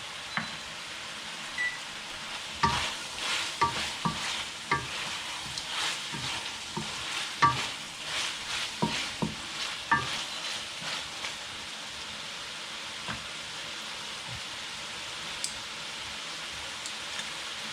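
Shrimp sizzling in a pan for Kapampangan-style chop suey, with crackling frying and scattered stirring clatters, steady and close with no talk.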